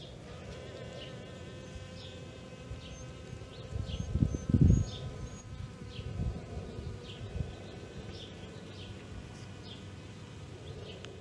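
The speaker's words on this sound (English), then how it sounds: "Oh, look at the bee." A bee buzzes steadily among snow crocuses in a spring garden, its drone rising louder and closer for a moment before settling back to a soft, continuous hum.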